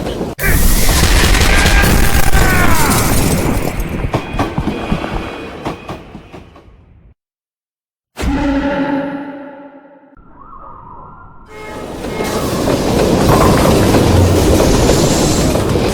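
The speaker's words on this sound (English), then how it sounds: "I can't stop the train!" Train rolling on rails in the Strike Force Heroes video game, a loud, dense rumble with clattering wheels and a ringing squeal, cutting to silence for about a second before a booming restart and the roar building back up.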